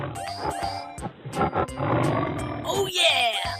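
A loud tiger roar from a video game dominates, rumbling under game sound effects and sharp clicks, ending with a bright whooshing flourish.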